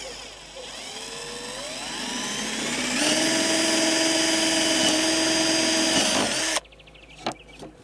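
A cordless drill boring holes for a bracket whines loudly, its pitch climbing as it spins up and holding steady before cutting off abruptly, followed by faint clatter.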